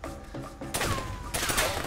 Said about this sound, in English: They're shooting my cover away.